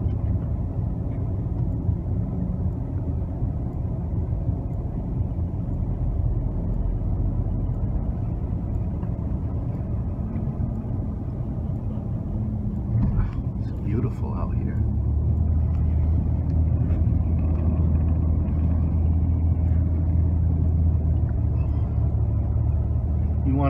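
A car drives along a scenic backwoods road in rural Connecticut near Platt Hill State Park, a steady low engine and road rumble heard from inside the cabin, continuous and moderately loud throughout.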